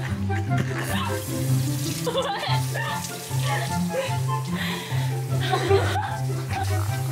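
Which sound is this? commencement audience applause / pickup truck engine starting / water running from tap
water running from tap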